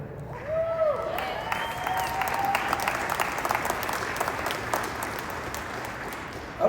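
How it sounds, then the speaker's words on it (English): An audience applauds a motivational speaker with a sustained broadband patter of clapping that carries on for several seconds, mixed with crowd cheering and a few raised voices. "I don't need all y'all to clap."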